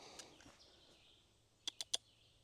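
Three quick, faint bird chirps in close succession ring out over quiet outdoor ambience on rural land, with soft scattered rustling beforehand.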